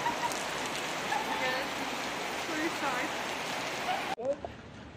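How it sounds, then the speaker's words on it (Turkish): Rain falls steadily in İzmir, a dense, even hiss of drops on the street, close and continuous. The rain cuts off abruptly near the end, where a voice is briefly heard. "Yağmura bak."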